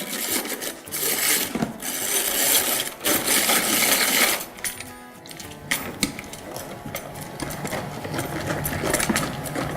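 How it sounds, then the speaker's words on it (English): Gingerbread batter with an egg is being mixed until smooth in a bowl, giving a steady clattering, scraping churn that rises and dips for about ten seconds, fairly loud and close, with no talk over it. "now we're going to mix that until it's nice and smooth"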